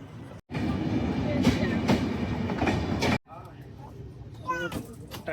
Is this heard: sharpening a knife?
no